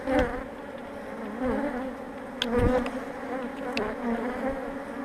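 Honeybees buzzing in an open beehive during a spring inspection, a steady close drone with a few louder passes as individual bees fly near, no talking.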